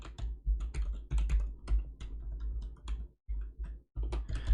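Fingers tap quickly on a computer keyboard, with clustered clicks and a few brief pauses, close and fairly quiet.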